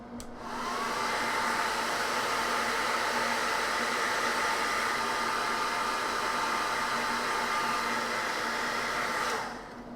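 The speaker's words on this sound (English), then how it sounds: "gonna hit this with a hairdryer again. Cool setting." A hairdryer on its cool setting blows a steady, loud whooshing hum for several seconds over a painted Knight Armiger miniature, switching on at the start and cutting off near the end.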